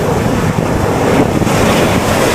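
Sea waves crash and wash over a grassy, weedy rocky shore in a steady, loud roar of surf, with gusty wind buffeting the microphone throughout and no voices.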